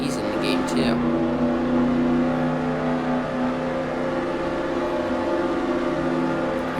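Engine of a Lamborghini Urus SUV in the Roblox Jailbreak game, a steady tonal drone holding at speed throughout, with a brief burst of other game sounds at the start.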